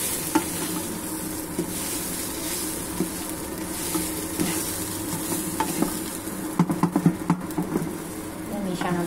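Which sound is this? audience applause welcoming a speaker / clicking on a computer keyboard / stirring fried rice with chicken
stirring fried rice with chicken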